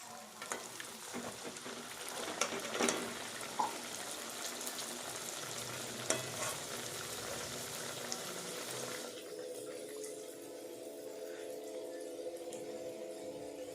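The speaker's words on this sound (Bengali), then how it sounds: "আমি এক এক করে ভাজছি।" Green pea kachori, a stuffed fried bread, frying one at a time in hot oil in a wok, with a continuous bubbling sizzle and occasional clinks from a utensil, easing to a quieter hiss toward the end.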